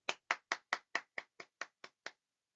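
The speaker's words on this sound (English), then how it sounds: "Hey, everybody, give him a clap." Ten sharp, evenly spaced claps in a row, close and crisp, each a little softer than the last, then silence.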